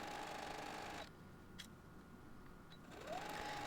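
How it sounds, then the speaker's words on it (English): Sewing machine stitching the back cover onto a handmade fabric album, a steady close whirring run that stops after a second, leaves a quiet pause, then starts up again near the end. "And now I'm just going to sew on my back cover."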